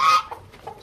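A brief cluck from a rooster, close by, followed by a few faint, soft calls.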